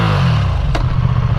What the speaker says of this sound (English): just a little throttle blip